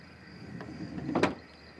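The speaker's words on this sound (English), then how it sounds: "It sounded like a sliding door on a van, just closing very quietly." A van's sliding door closing quietly in the middle of the night, a faint muffled thud with a brief soft slide near the end, heard distantly against a low background hum.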